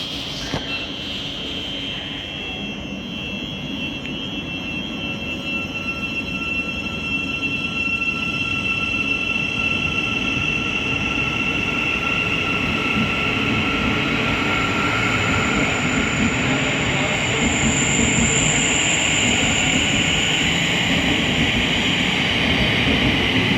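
A late-running whole-train service from London King's Cross to Hull rolls slowly through Hitchin station on the East Coast Main Line, a steady sustained rumble with high wheel squeal and hum lasting throughout, close and loud, with no talk.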